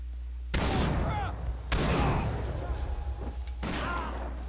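A SPAS shotgun fires in Far Cry 3, three loud separate blasts spaced over a few seconds, each with a ringing tail, with voices mixed in between.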